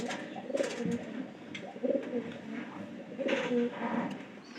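Domestic pigeons cooing close by, several soft, throaty rolling calls that repeat in short bursts with brief quiet gaps between them.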